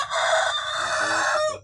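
Free-range Indonesian village chickens: a rooster crows close and loud, one drawn-out call that ends in a short wavering tail, with faint clucking beneath it.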